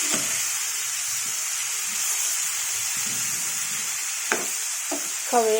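Tomatoes and capsicum fry in a pan for a sesame tomato chutney, a steady close sizzle throughout with a few sharp stirring clinks near the end.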